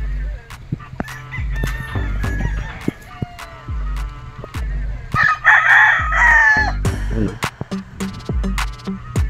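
Roosters crow repeatedly and hens cluck at a gamefowl farm where the brood cocks are tethered and the hens roam free; the calls come close and loud, one after another, over a steady low rumble.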